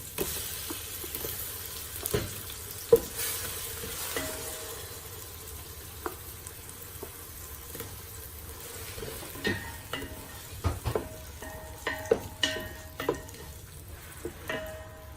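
Onion and paste frying over medium heat for a turnip curry masala, a low continuous sizzle with frequent sharp spoon scrapes and clinks against the pan, growing busier toward the end, with no voices.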